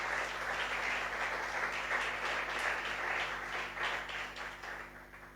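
A church congregation claps together in praise during a sermon, a steady, somewhat distant wash of applause over a low hum, fairly quiet overall.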